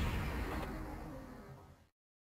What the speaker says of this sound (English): the engine compartment exploded